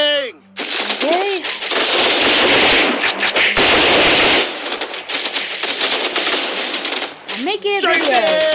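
Rapid machine gun strafing fire rattles loudly in a video game, long bursts of dense gunfire with brief gaps, while a voice shouts over the start and end.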